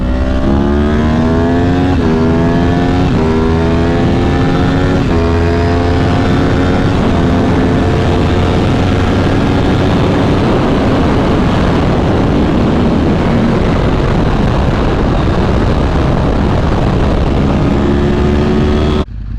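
A 2012 Yamaha R1 sportbike engine is ridden on a toll road, loud and close, with a high whine climbing through several rising pitch sweeps before settling into a steady, sustained drone alongside heavy wind rush.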